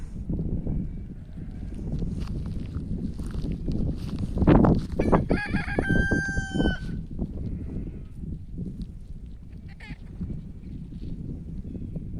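A single rooster crow rises clearly midway through, preceded by a thump and set against continuous outdoor farm noise and faint clucking.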